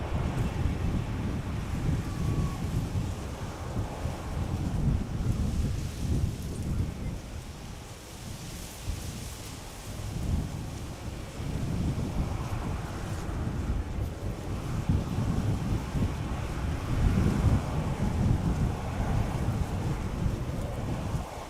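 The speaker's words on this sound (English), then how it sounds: "the wind makes for quite shaky footage, even though I have image stabilizer enabled" Strong gusting wind buffets the camera microphone at Schiphol Airport, a loud continuous low rumble with swelling gusts and no voices.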